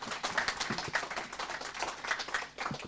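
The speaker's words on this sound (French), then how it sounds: "Merci Franck, on peut l'applaudir." Audience applause for a speaker after an urban planning talk: a steady, fairly faint patter of many hands clapping at once, with no voices heard over it.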